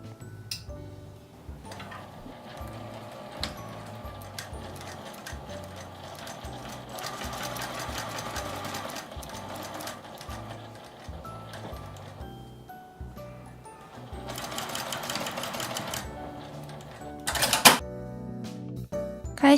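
A sewing machine stitching a 1 cm seam on a fabric piece with the turning opening left unsewn, a close, steady mechanical whirr and rapid needle clatter in two long runs separated by a short pause, ending with a few clicks.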